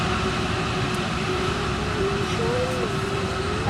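A train heard from an outdoor garden setting, a steady continuous rumble with a faint wavering tonal whine, moderately loud and unbroken throughout.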